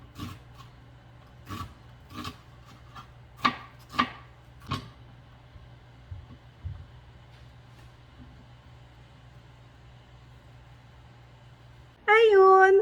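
Onion is chopped with a knife on a board in a home kitchen: about eight sharp, uneven chops, then a low steady hum, with a short burst of voice at the very end.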